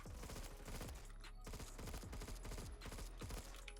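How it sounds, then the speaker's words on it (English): Rapid automatic gunfire from the video game Phantom Forces rattles on without pause, loud rounds stacking into a dense fusillade with the M16A4 in play. "I got people shooting at me from a different angle."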